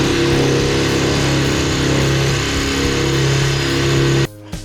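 Parkside Performance 150 Nm drill without hammer action, driving a 10 mm bit into concrete: a loud, steady motor whine held for about four seconds that then cuts off abruptly.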